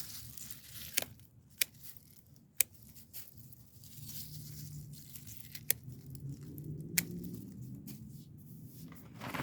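Scissors snipping the flowering tops off a basil plant, with sharp isolated snips over soft rustling and crinkling of leaves and stems at close range.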